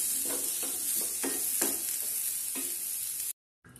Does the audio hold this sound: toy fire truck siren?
no